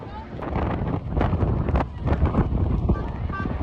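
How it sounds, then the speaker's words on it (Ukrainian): Strong storm wind buffets the microphone on a bridge during a storm warning, a loud continuous roar of broadband gusts with rumbling low end throughout, with some background voices. "Блін, всіх просто вітром зносив."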